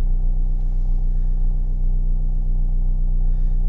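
A Ford EcoSport engine idles just after a push-button start, a loud, steady low rumble with an even hum and no revving.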